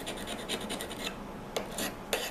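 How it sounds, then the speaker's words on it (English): A file rasps across the blade of Felco 2 pruning shears in a few quick, close strokes, several rapid scrapes followed by two separate sharper passes, with no talking. "this is a quick sharpening on the Felco 2s"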